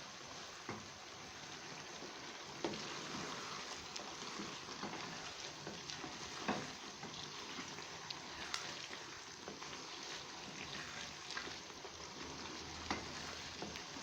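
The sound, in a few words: frying chicken karahi with spices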